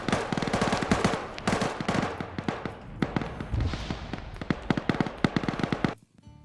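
Grenade blasts and rapid rifle and machine-gun fire in an Arma military game battle near hangars, dense overlapping bursts and booms throughout, ending abruptly.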